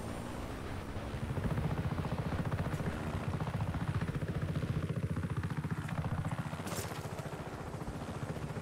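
A helicopter in the video game Just Cause 3 gives out a steady, loud rotor chop, its rhythmic blade thumping running through the whole stretch with no talk.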